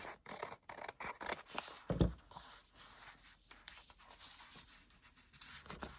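Scissors snip through paper dolls for a journal, a close series of crisp repeated cuts with rustling paper between them, quiet and without talk.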